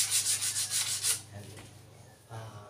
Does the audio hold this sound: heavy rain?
no